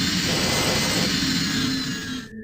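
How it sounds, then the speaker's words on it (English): Spaceship thrusters in the video game Pegasus Prime roar with a broad, loud jet-like rush during an automatic test, holding steady before cutting off abruptly. "Auto-testing thrusters."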